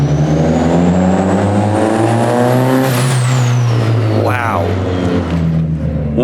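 A car with a Dream turbo setup on a Nissan SR20 engine revs hard and sweeps past, a loud rising engine drone with a turbo whistle climbing and falling; people talk and exclaim over it.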